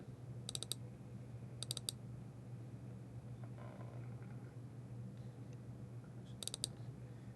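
A computer mouse clicks in short crisp bursts, three quick double-clicks spread apart over a faint steady hum, with no talking.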